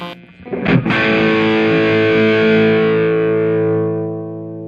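Electric guitar played through a VHT Pittbull amp's lead channel: a picked chord rings out loud and distorted, sustaining with a long, even decay over several seconds.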